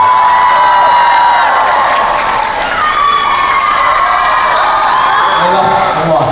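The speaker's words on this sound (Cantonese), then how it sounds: "大家俾啲熱烈嘅掌聲我哋" Crowd noise at a live Cantonese variety show, with cheering, whoops and applause running steadily and loudly throughout, dense and unbroken.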